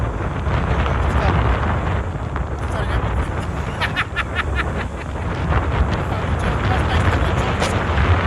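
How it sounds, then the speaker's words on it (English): Strong wind roars and buffets the microphone continuously, a loud, dense rumble with gusting surges throughout. "Whoa, wind here. Very windy."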